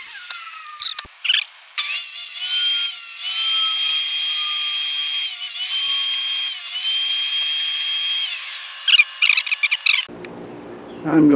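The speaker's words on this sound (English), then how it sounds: "I'm going to drill holes at the joints and drive nails in them" A power drill bores into wooden joints with a high steady whine, close and loud, starting and stopping a few times before running for several seconds, then quitting.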